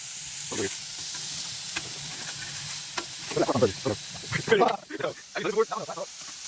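Burgers frying in a pan give a steady soft sizzle and hiss, with occasional scrapes and clatters as they are turned, while excited voices talk over it in the second half.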